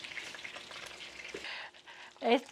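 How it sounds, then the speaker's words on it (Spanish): Sausage and chiles fry in a pan for frijoles charros, a steady soft sizzle running throughout, with a couple of louder clattering bursts near the end, no talk. "les voy a poner la salchicha ahí, a que se dore"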